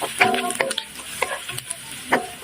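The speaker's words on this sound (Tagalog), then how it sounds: "mag-i-start na tayo mag-saute ng sibuyas at bawang" Onion and garlic sauté in butter in a pan, with a steady sizzle broken by several sharp clinks and scrapes of a stirring utensil against the pan.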